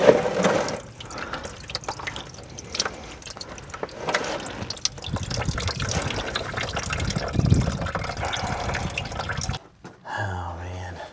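Coolant drains from the lower radiator hose of a dump truck, making a continuous gushing, splashing pour into a container that runs for several seconds before stopping abruptly, with a clunk at the end.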